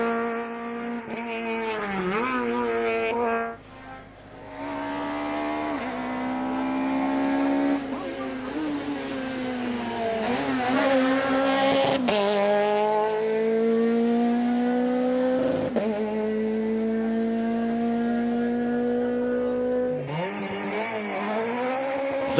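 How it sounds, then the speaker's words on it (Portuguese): A Peugeot 208 rally car warms its tyres at a hill climb, its engine rising and falling in long revving sweeps with bursts of tyre squeal. It sounds loud and near, and a commentator talks over it. "Lávio Batista num Peugeot 208. A aquecer ali os pneus na zona de saída."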